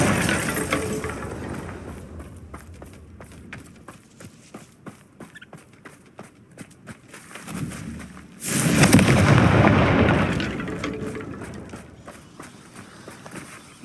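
Glacius and Confringo spells in Hogwarts Legacy: a run of quick crackling, shattering hits, then a loud, broad explosive burst that roars for a couple of seconds before settling back into rapid clatter.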